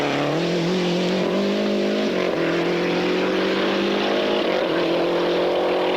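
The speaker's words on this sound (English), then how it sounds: "Tangy, very effective and very fast with the Lancia." A Lancia rally car on a 1996 Rallye des Géants stage in France, its engine roaring loud and close in a sustained high-revving drone with slight pitch shifts between gears, no voices.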